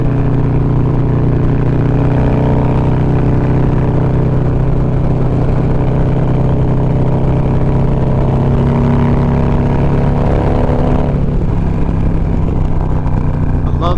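A 2020 Harley-Davidson Road Glide motorcycle engine runs steadily and loud throughout, a deep continuous rumble with a slight change in tone near the end, no voices over it.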